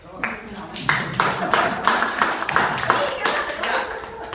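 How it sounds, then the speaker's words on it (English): A conference audience applauding a volunteer at a hybrid keynote and workshop, a few seconds of steady clapping that swells and then holds, moderately loud. "thank you for clapping her"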